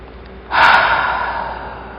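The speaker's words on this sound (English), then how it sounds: "Take a breath. Just take a breath." One deep, close inhale that starts sharply and fades into a long, steady airy breath, heard alone.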